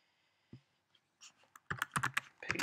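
Fast bursts of computer keyboard keystrokes, clicky and close, after a few scattered single taps while someone writes text in Flash animation software.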